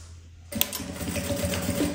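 A sewing machine runs in a steady rapid whir after a brief quiet start, stitching a seam on a backpack with a backstitch, close and clear with no talking.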